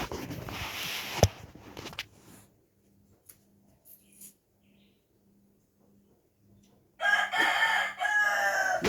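A rooster crows loudly and close by after rain, a long ragged call following quieter stretches with soft, regular low pulses in the background, no talking.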